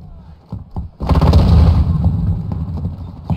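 A Semtex grenade goes off in Call of Duty Modern Warfare 2 multiplayer, a loud booming blast after a few short pops, its rumble lingering for about two seconds amid scattered gunfire.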